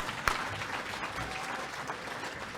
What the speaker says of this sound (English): Second round of applause for James Lockhart.